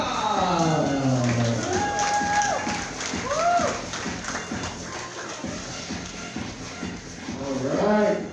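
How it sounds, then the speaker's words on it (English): A comedy club audience in Hawaii applauding and cheering, a steady wash of clapping and crowd noise rising again at the end, with music tones and a voice over it. "I need y'all to make some noise for Darryl."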